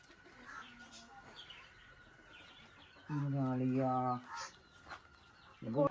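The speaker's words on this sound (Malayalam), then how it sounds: "നമ്മള് ചെറുപ്പം മുതലെ വളർത്തി വലുതാക്കിയ കോഴിയാണ്" A hen raised from a chick, its head hurt in an attack, gives a short burst of loud, close clucking partway through. Another brief cluck comes at the end over a quiet background.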